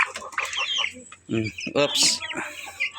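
Free-range Rhode Island Red chickens cluck close by, with a run of throaty clucks and a sharp squawk. Someone talks over them.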